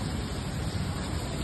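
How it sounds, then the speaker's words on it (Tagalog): A loud, continuous roar of heavy rain outside the fourth floor of Uptown Mall in BGC, an unbroken wash of pattering water close by. "Malakas po ang ulan."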